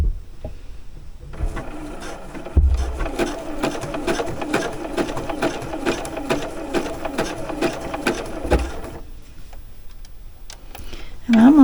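A sewing machine runs a zigzag stitch to form an X across fabric, a steady rapid mechanical ticking for several seconds that stops briefly midway, with a brief voice near the end.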